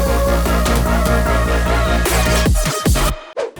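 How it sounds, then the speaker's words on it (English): Future bass drop with a fake transition effect: steady pulsing chords and kick, then a rising white-noise sweep and stuttering chopped hits that cut abruptly to near silence with a final short burst, loud and alone. "I added this fake transition effect like this."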